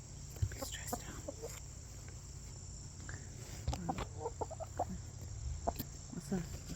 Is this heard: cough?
no